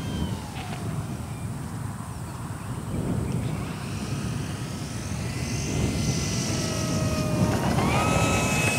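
An E-flite Draco 2.0m RC airplane flies overhead, its electric motor giving a thin, whining drone that rises and shifts in pitch as it passes, moderately loud and steady throughout.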